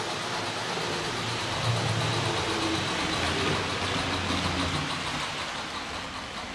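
A Tri-ang Hornby model locomotive runs fast with plated wheels, its electric chuff sound rapid and frantic: a steady, continuous mechanical whirr and pulsing chatter at close range, fairly loud and unbroken, with no voices.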